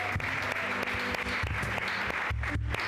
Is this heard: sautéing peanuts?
no